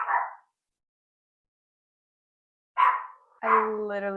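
A dog gives a short bark, then after a long silence two more quick barks and a whining yelp follow, close by in a quiet indoor room.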